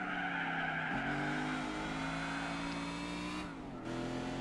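Muscle car tires squealing in Gran Turismo 4 as the car oversteers out of a corner, a sustained tonal skid riding over the steady engine drone, with gear-like pitch shifts around one and three and a half seconds.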